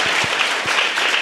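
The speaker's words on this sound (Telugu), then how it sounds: "చప్పట్లు కొట్టి ప్రభుని మహిమపరచండి." A congregation at an all-night prayer meeting claps loudly and steadily in praise, a dense, close burst of many hands with a few heavier thumps underneath.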